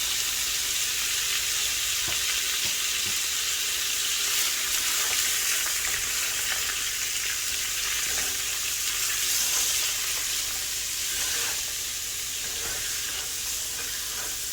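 Onions and green peppers sizzle and fry steadily in a pan for Southern black-eyed peas, a continuous bright crackling hiss with occasional soft stirring clicks, close by and with no talking.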